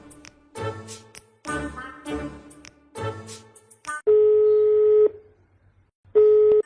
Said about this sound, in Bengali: একটু মতিন দালালের ফোন দি